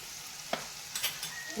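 Soft sizzling of ground coriander-cumin, garam masala and salt frying in a pan for samosa filling, with a couple of brief stirring scrapes.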